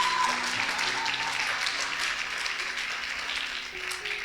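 A church congregation at a Sunday service applauding, a dense, steady wash of many hands clapping throughout, heard from within the room.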